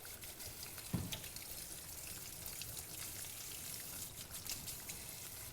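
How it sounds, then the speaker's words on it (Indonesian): Water poured over cooked spaghetti in a kitchen to cool it after boiling, a steady close splashing rush with a brief louder splash near the start, no talking. "Kenapa harus kita siram air?"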